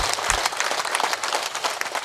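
An audience at a devotional kirtan gathering claps in a brief, dense burst of applause, close and fairly loud throughout.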